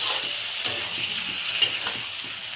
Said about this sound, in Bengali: মশলা জল দিয়ে দিলাম যাতে মশলাটা ভালো কষে।